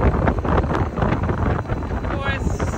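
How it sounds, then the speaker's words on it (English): Strong wind buffets the microphone aboard a sailboat at sea in the Sea of Cortez, a loud, continuous roar and rumble with water rushing beneath, sustained for the whole stretch. "big winds, which sort of limits what you can do"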